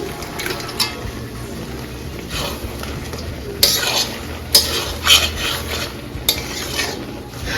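Prawns are tipped into a pot of boiled onion, tomato, carrot and peas for a prawn biryani, then stirred with scraping and clinking against the metal amid a low sizzle, while a voice talks over it.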